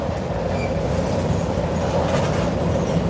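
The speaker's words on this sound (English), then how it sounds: "I'm seeing the end of the train creeping up on me now" A Chicago and North Western freight train rolls past in Roanoke, loud and close, a continuous rumble of railcars with steady wheel clatter throughout and no talking.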